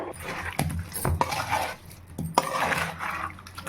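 Amla pickle is mixed with cooled oil and mustard in a pot, with a wet squelching stir, a few sharp knocks of a utensil against the pot, and soft scraping between strokes.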